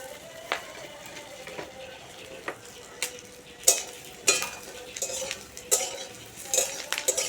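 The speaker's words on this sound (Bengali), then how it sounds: "আস্তে আস্তে জাল দিয়ে ভাজছি নাহলে পুড়ে যাবে" Eggs fry slowly in a pan on low heat, with a soft steady sizzle broken by repeated light clinks and scrapes of a utensil stirring against the pan, no voices.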